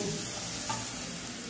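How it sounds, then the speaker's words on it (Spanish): Enchiladas, rolled tortillas in red guajillo chile sauce, fry steadily in a pan, a continuous close sizzle and bubbling without talk. "Y aquí la salsa se fríe también junto con las enchiladas, junto con las tortillitas."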